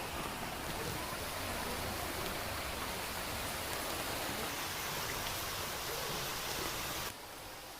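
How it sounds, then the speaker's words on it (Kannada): Waterfall and flowing water at Adi Subrahmanya in the Malnad region, a broad, constant rushing roar that holds steady before dropping off abruptly near the end, with no voices. "ಅಲ್ಲಿ ಬರೋ ಜಲಪಾತ ಮತ್ತು ಹರಿಯೋ ನೀರು ಸಖತ್ತಾಗಿ ಕಾಣ್ತಾ ಇದ್ವು"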